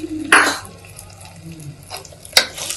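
Gongura and a spice tempering being stirred into pudina pulao in a pan, with two sharp scraping clatters of a spoon against metal, one near the start and one near the end, over a soft, steady kitchen background.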